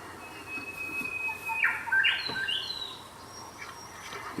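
A wild bird near Inglewood gives thin whistled calls mixed with a couple of harsh squawks. The calls are moderately distant and rise over a steady background hiss.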